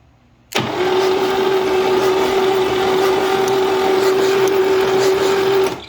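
A 1963 GMC K1000 4x4 barn-find truck engine catches and fires up abruptly, then runs at a steady, loud idle close by for several seconds before cutting off.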